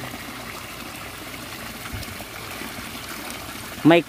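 Water from a koi pond draining away as a steady low trickle and stream throughout, with a brief louder splash near the end.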